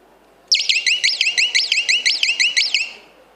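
At a school quiz contest, an electronic buzzer sounds loudly and close, a rapid warbling chirp repeating about a dozen times over roughly two and a half seconds before fading out.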